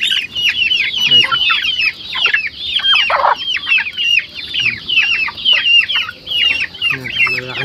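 Young chickens kept in a cage cluck and peep continuously, many overlapping high chirps close by, busy and steady throughout.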